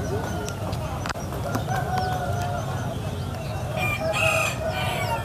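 Chickens and roosters at a bird market in Muntilan, Magelang, crow and cluck over a steady market hubbub, with a loud crow rising near the end and voices talking in the background.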